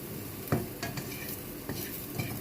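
Garlic stirred in a nearly dry pan, a faint steady sizzle punctuated by a few spoon scrapes and knocks against the metal, with no speech.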